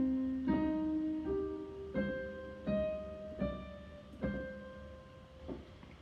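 Solo piano plays one measure from a Bach piece, a slow run of separate notes with sustained tones ringing over a low held bass line, each note attack clear and close, with no talking.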